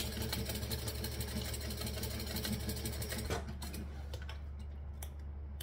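Sewing machine back stitching through fabric, a fast steady mechanical whirring chatter that runs close and loud, then stops partway through, leaving a quieter room hum.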